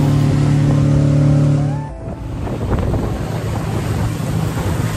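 A motorboat carrying six people speeds along a fast-flowing river near Rishikesh, with loud engine drone, rushing water and wind buffeting the microphone; a steady hum cuts out and gives way to churning surf.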